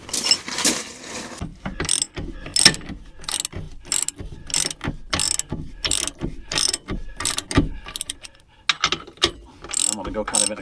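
A hand ratchet tightening leaf spring bolts on an RV travel trailer, giving close, loud bursts of rapid clicking in a repeated stroke-and-pause rhythm throughout.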